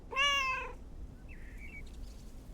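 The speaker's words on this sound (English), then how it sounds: "You're my favorite cat, Mort" A cat in a video game gives one loud, clear, nearby meow, followed by a softer, shorter chirping sound and quiet background ambience.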